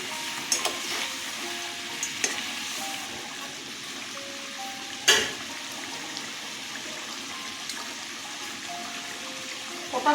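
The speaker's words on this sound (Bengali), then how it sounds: "ঝোল ফুটে গেছে, মাছগুলো ছেড়ে দেব।" Bele fish dropped into a boiling mustard-paste green-chilli curry, simmering with a steady bubbling sizzle, a few faint clinks and one sharper knock midway.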